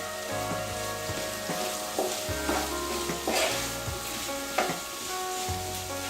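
Onions fry in oil in a pan while being stirred, a steady sizzle running throughout with soft rhythmic scraping strokes, close and moderately loud.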